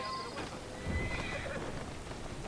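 A horse in the game Assassin's Creed Syndicate gives a short, fairly faint whinny over a busy background of street noise and hoof clops.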